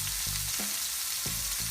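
Potatoes and carrots frying in the remaining oil in a pan, a constant bright sizzle with a few soft clanks of stirring, steady and close.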